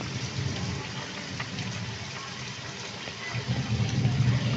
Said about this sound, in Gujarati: બહુ એટલે બહુ વરસાદ આવે